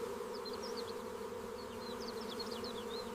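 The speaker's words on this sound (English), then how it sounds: "the bees are doing excellent work" A steady drone of bees hums close by, with faint high chirps flickering above it and no voices.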